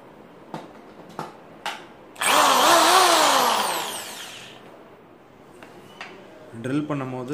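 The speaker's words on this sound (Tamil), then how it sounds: "ட்ரில் பண்ணும் போது ரொம்ப கவனமாக பண்ணணும்" An electric drill bores into a wooden branch for a bird perch, a loud whining burst of about three seconds that slowly winds down, with scattered knocks and handling clatter before and after.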